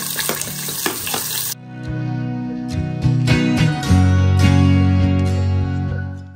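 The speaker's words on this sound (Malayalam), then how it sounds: "സബോള ഇവിടെ വഴന്ന് തുടങ്ങിയിട്ടുണ്ട്" Chopped onions hit hot spiced oil with a brief, dense sizzle, after which loud background music with tonal plucks takes over and the frying continues only faintly beneath it.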